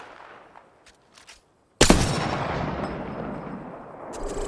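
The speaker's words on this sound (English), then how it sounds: "Listen up, I'm getting shot at." Gunfire in the battle royale shooter Apex Legends: after a quiet stretch with faint distant pops, a sudden loud burst of shots erupts and rolls into sustained rapid fire and echoing reports.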